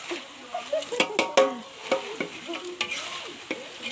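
A sweet snack mixture is stirred in a pan, with scraping, clattering strokes and soft sizzling in an uneven rhythm, close and moderately loud.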